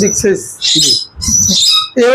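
A large parrot for sale at a bird shop gives several harsh, high squawks in short bursts, alternating with nearby people talking.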